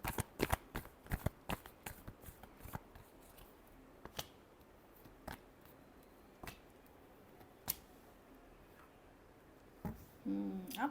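Tarot cards being shuffled by hand, a series of sharp riffling snaps and flicks, quick at first then spaced out, close and quiet with no talk over them.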